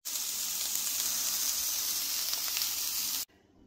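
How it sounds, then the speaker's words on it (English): Onions and vegetables fry in coconut oil in a pan, giving a loud, steady sizzle up close that runs unbroken for about three seconds before cutting off. "So I start by putting coconut oil and onions on, and then I add in all my veggies and throw in some salt and pepper."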